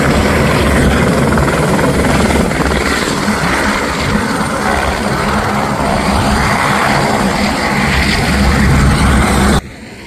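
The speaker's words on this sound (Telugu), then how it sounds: "హెలికాప్టర్ ల్యాండింగ్ అవుతుంది." A helicopter roars loudly and close by in the Himalayas, its steady rotor thrum and engine whine filling the air before cutting off abruptly near the end.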